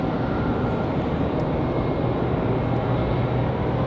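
A Delta A320 airliner arriving at Raleigh Durham airport on a windy day makes a constant, broad, heavy roar that holds steady and fairly loud for the whole stretch, with no voices over it.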